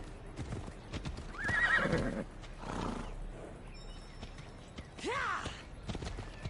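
A horse in the video game Assassin's Creed Odyssey, The Fate of Atlantis, clops its hooves in steady rhythm and gives two loud whinnies, close and clear, with faint voices in the background.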